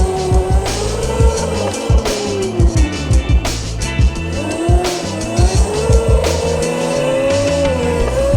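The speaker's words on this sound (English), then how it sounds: "Let this truck pass." A truck passes by on a road, a loud vehicle rush with a rising and falling engine tone and repeated thumps, close to the listener for several seconds.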